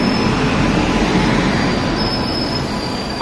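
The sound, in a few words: Jangipur Express train pulling into Naihati station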